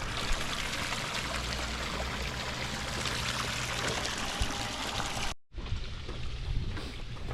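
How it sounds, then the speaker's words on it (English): Three LED spillway waterfalls pour into an aboveground backyard koi pond, making a steady, loud, close rushing and splashing that continues throughout, with only a brief dropout partway through. "Got all 3 LED spillways, waterfalls going."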